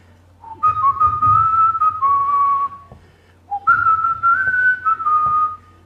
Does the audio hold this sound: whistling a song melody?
yes